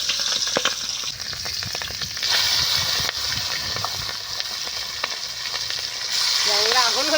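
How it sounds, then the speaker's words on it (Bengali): Prawns frying in hot oil with turmeric, a loud continuous sizzle and crackle close by, with occasional stirring clatter and a faint voice in the background. "এবার আমরা মাছটা ভেজে নেবো।"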